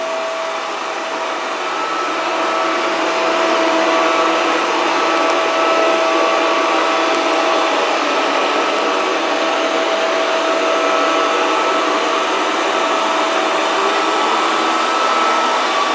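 A Proscenic 790T robot vacuum cleaner cleaning a floor gives off a loud, steady whirring hum that holds unbroken for the full stretch and sounds close by.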